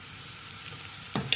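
Onions with salt in hot oil in a pot for Bosnian veal goulash, a steady soft sizzle close up, with a brief stirring clatter near the end.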